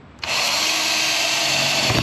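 A power drill whirs in after a brief quiet start and keeps spinning at a loud, steady pitch, straining slightly near the end.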